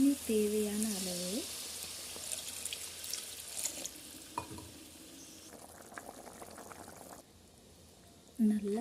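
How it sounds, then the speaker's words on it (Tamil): Fish curry with tomato and coconut bubbling and simmering in a pan with a soft, continuous sizzle, while a voice speaks briefly at the start and end. "நல்லா கொதிச்சிட்ருக்கு."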